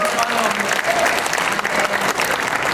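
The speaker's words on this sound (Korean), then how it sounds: "영광의 박수 다시 한번 돌려드립니다" A church congregation claps together in a warm, dense burst of applause filling the room, loud and continuous for a few seconds.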